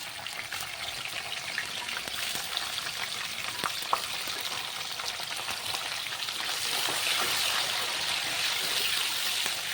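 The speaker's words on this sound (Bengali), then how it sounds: "চলো পেঁয়াজটাকে এখন ভালো করে ভাজা করে নিই।" Chopped onions with cardamom and cinnamon fry in hot oil in a pan, giving a steady close crackling sizzle that swells slightly louder toward the end, with occasional soft stirring clicks and no talk.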